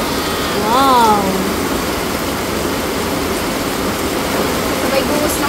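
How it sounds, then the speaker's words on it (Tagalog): Heavy rain pours steadily during Typhoon Aghon, a dense broadband wash that continues throughout, with a brief voice near the start. "Sabay buhos ng ulan na rin."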